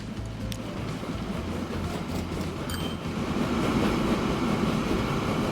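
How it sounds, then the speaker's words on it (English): A long freight train from the Transport Fever 2 simulation game rumbles steadily with a dense, continuous rolling drone and faint metallic clatter, growing slightly louder toward the end, with no talking. "Look at this train. It's so long."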